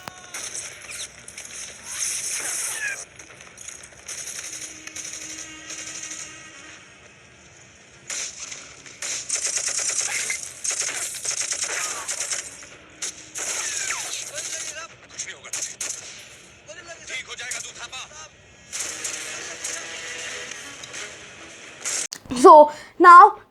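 Gunfire from a Kargil war film scene, Indian Army troops climbing hills under fire: dense bursts of rapid shots and crackling volleys in repeated waves, with a few louder sharp blasts near the end.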